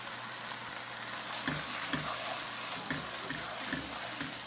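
A masala of salt, red chilli, curry powder, turmeric and dry coriander roasts in a pan for a taro and potato dish, giving a constant dense sizzle with low, dull stirring thumps about every half second.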